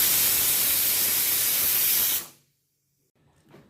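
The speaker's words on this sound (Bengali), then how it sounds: "আলু সিদ্ধ হচ্ছে, আলুটা সিদ্ধ হয়ে যাক" Steam hissing loudly and steadily from a pot of potatoes boiling on the stove, a broad continuous rush that cuts off abruptly, leaving near silence and a faint rustle.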